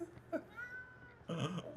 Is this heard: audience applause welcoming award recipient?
no